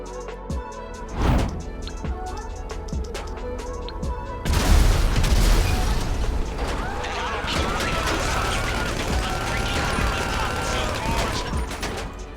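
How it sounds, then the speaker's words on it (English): A car bomb goes off in GTA 5, a heavy boom midway followed by a sustained roar of firefight and crashing debris, loud and dense throughout, with someone talking over the action. "the attorney's car is equipped with a bomb, but detonating it will set off a massive firefight"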